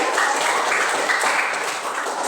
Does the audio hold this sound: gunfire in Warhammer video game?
no